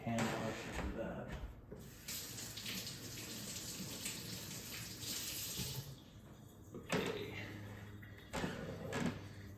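Tap water runs steadily into a sink as green papaya salad ingredients are rinsed by hand, a quiet, continuous splash that rises and dips while things are moved under the stream.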